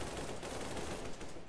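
Rapid gunfire in a Minecraft shooting game with police fighting an evil scientist's forces, a steady dense rattle of shots running without a break through the whole moment.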